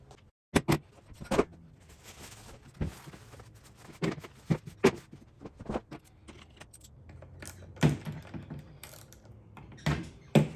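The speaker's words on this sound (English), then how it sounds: "Let's get a metric socket set." Metal sockets from a metric socket set clink and rattle in irregular sharp bursts, close and fairly quiet, during weed wacker carburetor work.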